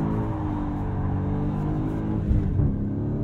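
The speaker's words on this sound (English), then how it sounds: "lock up the front brakes and just spin the rear rubber" Manual Dodge Challenger Swinger with traction control off, revving hard while its rear tires spin against locked front brakes: a loud, continuous muscle-car engine roar with a dense low rumble that swells slightly near the end.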